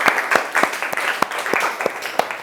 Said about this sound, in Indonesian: Berikan aplaus dulu untuk kelompok 5.